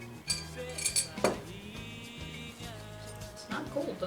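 Ice cubes clink and rattle against glass several times in quick, irregular bursts, close up, amid faint clattering.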